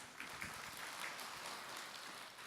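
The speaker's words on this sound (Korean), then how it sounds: "박수로 맞으세요" An audience on a Buddhist television Q&A broadcast claps to welcome a questioner: a brief, faint, even patter of applause with no talk.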